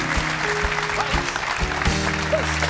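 Steady applause from a TV football talk show studio audience, a dense wash of clapping over low, sustained studio music tones, with no talking.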